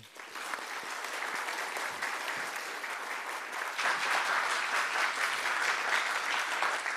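A lecture-hall audience applauds steadily to welcome Professor Barbara Chan to an inaugural professorship lecture, the clapping growing a little louder partway through.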